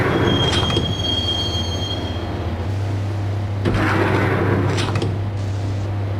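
Subway train ride in the Max Payne game: a loud, steady rolling roar of rail cars, with a high wheel squeal early on and a deep engine hum joining midway.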